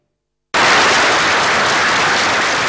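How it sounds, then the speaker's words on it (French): Sustained, loud applause fills a parliamentary chamber for Salifou Diallo, a dense, steady wash of clapping that bursts in after a brief silence and continues without pause. "Une salve d'applaudissements pour Salifou Diallo."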